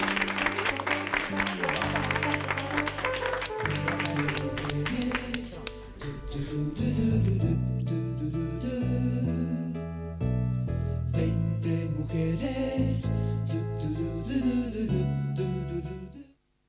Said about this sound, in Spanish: Y la despedimos con un aplauso.